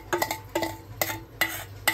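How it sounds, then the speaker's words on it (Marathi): Roasted vermicelli stirred into boiled milk in a pot, heard as rhythmic utensil scrapes and light clinks against the pot, about five strokes in two seconds, close and moderately quiet. "छान थोडंसं मिक्स करून घ्यायचं"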